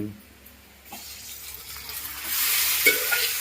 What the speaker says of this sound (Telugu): ఇప్పుడైతే చికెన్ ఫ్రై అయితే అయిపోతుందండి